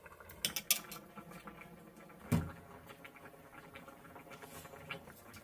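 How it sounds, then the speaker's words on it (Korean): Pieces of cutlassfish are dropped into a pot of braising radish, giving a few soft splashes and clinks, with one louder thump partway through over a gentle bubbling simmer. "이때 갈치 넣어주세요."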